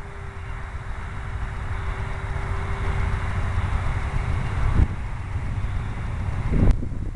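Steady wind rushes past the microphone during windy-day flight of a foamboard RC stunt plane, a continuous broadband roar with a faint motor whine fading out and a couple of brief knocks near the end.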